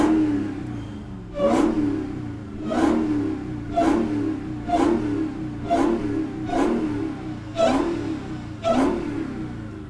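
A Dodge Hellcat Redeye engine revved repeatedly in eight short, evenly spaced bursts over a low rumble, each rev rising sharply and then falling away, close and loud.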